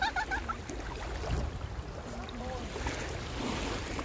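Choppy sea waves wash and rumble steadily at Al Hudayriyat Beach, a broad continuous surf noise with wind buffeting the microphone and a few faint voices in the background.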